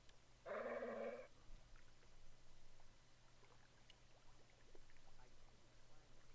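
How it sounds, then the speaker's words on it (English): The night watchman's guard dog in the remastered Broken Sword 2 video game gives a single short, gruff bark. Quiet ambience follows. "It was 20, the watchman's crazy guard dog."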